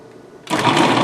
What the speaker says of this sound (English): now we're going to pulse our food processor 5 equal times